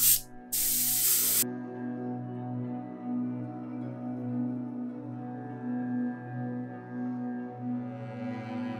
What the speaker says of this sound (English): I will spray it from the bottom